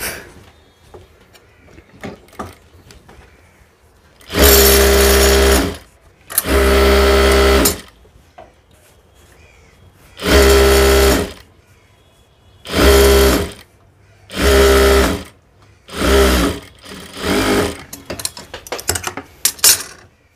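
Sewing machine stitching pant fabric: loud, close bursts of rapid whirring stitching, each lasting one to three seconds, separated by quiet gaps with small handling clicks.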